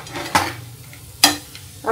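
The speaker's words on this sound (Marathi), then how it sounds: "हे खसखस आणि जायफळ आणि वेलचीची पावडर हे मी आता पूर्ण हे परतून घेते।" Poppy seeds with nutmeg and cardamom powder being sautéed in a pan for a Ganpati festival sweet filling, heard as a few sharp stirring scrapes and clatters over a faint sizzle, close and alone.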